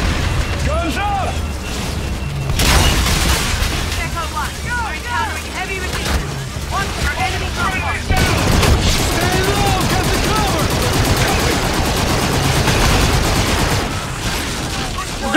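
Gunfire and explosions in the Call of Duty Infinite Warfare video game, with loud, dense, continuous bursts of shooting and booms under voices talking throughout.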